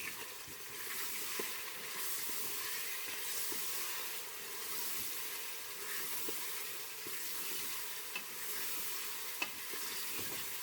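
Masala paste fries in mustard oil for an aloo chicken curry, with a steady soft sizzle and hiss throughout, broken by occasional scrapes and clicks of a stirring spoon.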